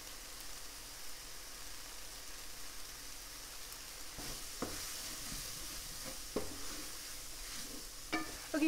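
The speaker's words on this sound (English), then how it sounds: "now that these onions and tomato have cooked down with the spices" Onions and tomato with coriander and curry powder sizzle quietly in a pan, a soft continuous hiss with occasional scrapes and clinks of a utensil stirring toward the end.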